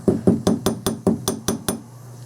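Small anvil struck repeatedly with a hammer while working a little piece of wire: about ten sharp, ringing metallic taps in an even rhythm, close and loud, with no talking.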